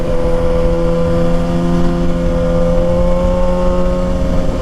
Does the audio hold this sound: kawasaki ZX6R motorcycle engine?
yes